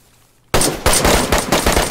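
Rapid gunfire in the survival game DayZ: after a short quiet moment a loud, close burst of about eight sharp shots rings out in quick succession, with no talk.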